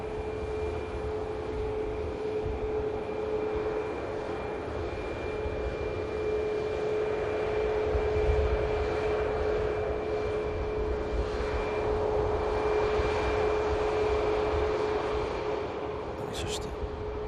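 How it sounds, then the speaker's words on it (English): A SunExpress airliner arriving at Manchester Airport from Dalaman, heard as a steady, moderately loud broadband jet roar with a constant engine tone, continuous throughout under a broadcaster's voice. "a Sun Express with the 35 sticker on there, just arriving in from Dalaman."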